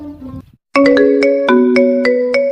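A phone rings in a Sindhi action film, a bright electronic ringtone of repeated two-note chimes sounding loud and close after a brief pause that follows muffled talk.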